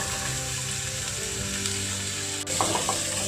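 Long-sliced onions sizzle steadily as they fry in hot oil for an egg dry roast, with a brief clatter of stirring near the end. The sizzle is continuous and close.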